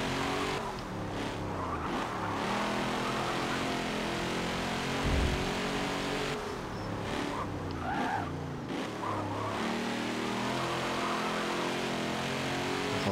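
Race cars in a Forza or Dirt video game roar down a straight, engines droning loud and steady with shifting pitch as one overtakes another, tyres skidding now and then.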